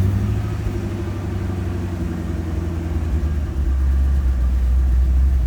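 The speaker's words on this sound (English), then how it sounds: "Give her a crank and see how she runs." Ford F-250 with a misfire, running after plug regapping and low on gas, gives a steady, loud low engine rumble close by with a slight unevenness throughout.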